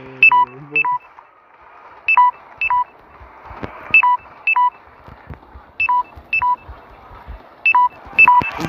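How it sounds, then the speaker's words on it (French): Alarm in a Roblox game beeping in repeated pairs of sharp high electronic tones, each pair separated by brief gaps, clear and fairly loud over faint background noise. "C'est quoi cette alarme?"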